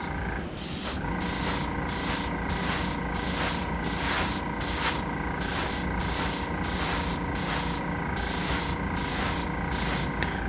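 An air spray gun at reduced air pressure paints a waggler fishing float, a steady close hiss of spraying that runs unbroken throughout with no talk.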